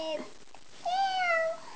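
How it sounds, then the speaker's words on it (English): A single drawn-out cat meow, faint and fairly short, rising then falling in pitch, preceded by a brief voiced sound. "Cat."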